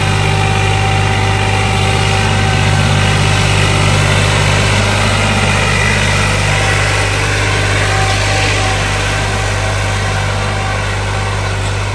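An old tractor engine idles loud and close with a steady, even diesel drone, holding constant RPM throughout without drops or surges.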